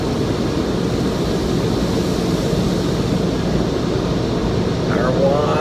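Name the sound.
car wash air dryers blowing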